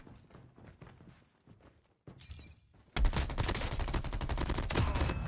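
Rapid automatic gunfire from a new gun in the mobile video game Call of Duty Mobile, quiet footsteps and thuds at first, then a loud sustained burst of close shots.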